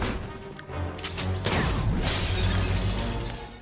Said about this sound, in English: Yeah, just blast through the glass.